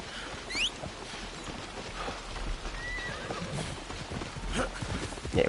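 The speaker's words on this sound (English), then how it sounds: "Here's my horse." Horse whinnies and hooves clip-clop in an Assassin's Creed Shadows-style open-world game, a neigh rising early, then steady hoofbeats over ambient game sound with a louder snort near the end.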